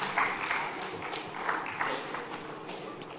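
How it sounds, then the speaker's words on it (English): Audience applause in a conference hall as a speaker is welcomed onto the stage at a live event: steady, dense clapping across the whole stretch with slight swells, no voices over it. "Can we give a huge round of applause as we welcome him on the stage"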